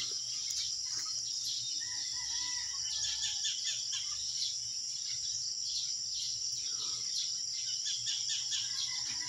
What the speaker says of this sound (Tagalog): Maririnig po natin yung huni ng mga ibon.